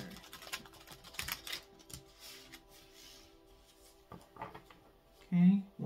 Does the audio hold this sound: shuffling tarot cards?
yes